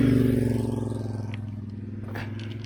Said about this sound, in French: Attends, il y a une moto qui arrive